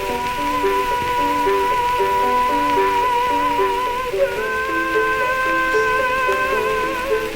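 A castrato sings in an old archival recording, a high sustained voice with wavering vibrato over steady surface hiss and crackle, alone with no talk.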